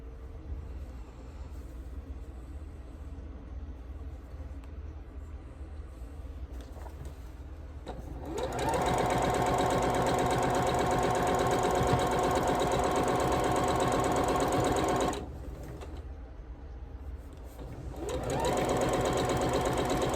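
Sewing machine stitching quilt pieces together, a soft background hum that gives way to two long, loud runs of fast, steady stitching at close range with a short pause between them.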